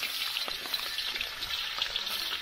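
Garlic and onion frying in a pan outdoors, giving a steady, bright, crackling sizzle with small pops scattered throughout and no voices.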